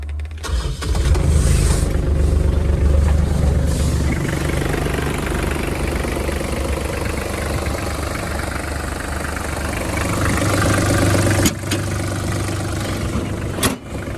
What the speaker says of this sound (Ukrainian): запустимо двигунчик.